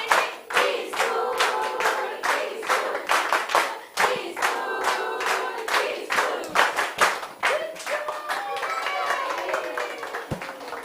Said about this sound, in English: Let's also give them a big clap.